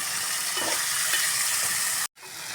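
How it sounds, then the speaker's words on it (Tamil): Tomatoes sautéing in oil with rock salt for a village-style field crab curry, a steady close sizzle with faint stirring, cut by a brief silent gap near the end. "தக்காளி நல்லா வதங்கிருச்சு. எல்லாமே நல்லா வதங்கிருச்சு. எண்ணெய் பிரிஞ்சு வந்துருச்சு."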